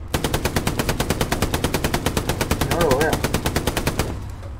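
Rapid, evenly spaced machine gun fire from the World War II shooter Hell Let Loose, a loud close burst of about forty shots at a steady rhythm lasting around four seconds before stopping, with a voice briefly heard underneath.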